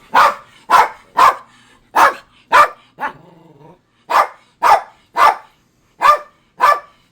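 Dogs barking loudly and close indoors, a series of about ten sharp, evenly spaced barks with a brief low whine or growl in the middle pause.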